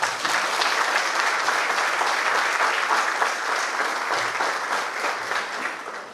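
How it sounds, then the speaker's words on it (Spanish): An audience at an evening awards ceremony applauds the workers with a strong, steady wall of clapping from many people that holds for several seconds and then tapers slightly at the end. "para el cual pido un fuerte aplauso"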